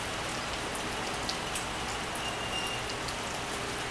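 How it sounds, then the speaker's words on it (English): Light rain drizzles outdoors as a steady, fine hiss of drops, with a few slightly louder patters standing out, unbroken and evenly loud throughout with no voices. "it's been kind of misting, sprinkling rain a little bit out here this morning"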